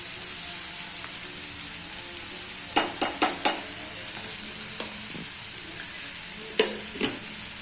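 Onion fried in a pan with salt gives a continuous bright sizzle, broken by a few quick taps and scrapes of a stirring spoon.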